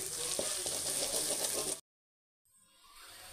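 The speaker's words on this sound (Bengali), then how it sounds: "এবার এর মধ্যে ম্যারিনেট করে মাংসটা দিয়ে দেবো।" Marinated chicken pieces go into a pan of hot oil with fried ginger and garlic paste for chilli chicken, giving a loud, steady sizzle that cuts off abruptly and then returns softer.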